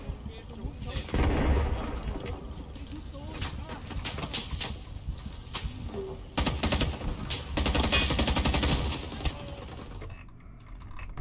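Bursts of AK rifle fire in the Vietnam War shooter Rising Storm 2: Vietnam, sharp repeated shots coming in clusters over game ambience, with someone talking over parts of it.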